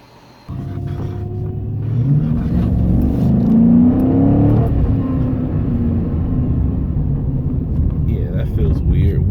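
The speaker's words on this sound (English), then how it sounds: "What is that grinding noise?" A 2006 Dodge Charger RT with a 5.7L HEMI makes a low, continuous rumbling grind while driving, heard from inside the cabin. The engine drones steadily and builds slightly as the car moves, with road noise throughout.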